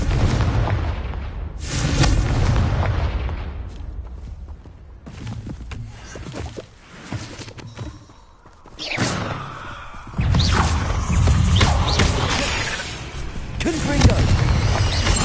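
Repeated Confringo blasts in Hogwarts Legacy: several deep, loud booms and whooshing bursts of combat come in waves over fifteen seconds, with quieter gaps between and a voice heard briefly among the impacts.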